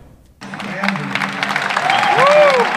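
Applause swells up from a street crowd in Cali, starting abruptly after a brief hush and building into steady clapping, with voices and shouts mixed in.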